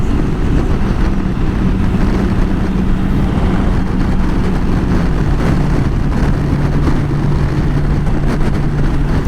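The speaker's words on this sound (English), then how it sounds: "When I'm riding, people don't even know I'm riding a motorcycle." A 2018 Honda Gold Wing motorcycle cruising on the road, giving a steady, smooth engine hum with a low sustained drone and constant wind and road rush throughout, no talking.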